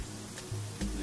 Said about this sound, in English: we got the vegetables sizzling on there